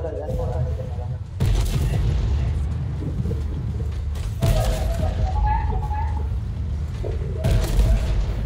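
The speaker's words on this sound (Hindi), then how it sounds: "टैंक उड़ गया, टैंक उड़ गया, टैंक उड़ गया।" Booming explosions from a tank blowing up in the Fortnite battle royale game, with several heavy blasts and dense crackling gunfire, loud and close, as excited voices talk throughout.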